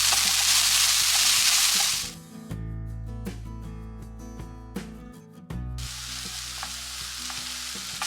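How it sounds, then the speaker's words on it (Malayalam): Shredded cabbage for a Kerala cabbage thoran is stirred in a hot pan: a loud, bright sizzle at first, then scraping stirring strokes as the sizzle drops, and the sizzle rises again afterward. "ഇനി നമ്മളിതിലേക്ക് നമ്മുടെ മെയിനായിട്ടുള്ള ക്യാബേജ് ഇട്ട് കൊടുക്കുകയാണ്. മിക്സ് ചെയ്ത് കൊടുക്കാം."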